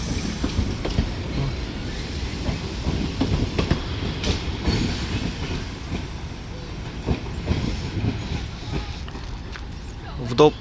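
A children's railway train arrives at Parkova station in Lviv, rolling by steadily with rhythmic wheel clacking and low rumbling, a person speaking faintly over the noise.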